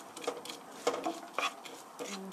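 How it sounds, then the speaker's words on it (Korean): Onion, garlic and carrot stir-fried in a pan, with repeated soft scraping and clinking strokes of a utensil against the pan over a faint sizzle, close and fairly quiet. "5분 정도 양파가 노릇노릇하게 될 때까지 볶아주세요"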